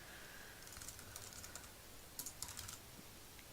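Quiet, rapid computer keyboard typing, with soft clustered key clicks and a few sharper taps near the end, alone with no talking.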